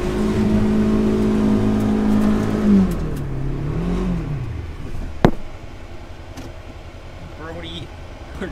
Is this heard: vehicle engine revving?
yes